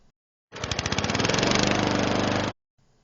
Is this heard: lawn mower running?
yes